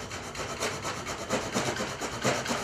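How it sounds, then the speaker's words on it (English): A fine hacksaw cuts through a reclaimed wooden wedge with quick, rhythmic rasping strokes, close and steady, about eight strokes in a row. "You can either use a fine hacksaw"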